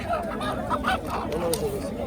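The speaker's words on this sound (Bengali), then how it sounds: "দেখেন বড় বড় মোরগ একদম সাইজের সাইজের মোরগগুলি দেখেন" Several large roosters cluck and murmur nearby in a busy, noisy village market, with people haggling and talking over them.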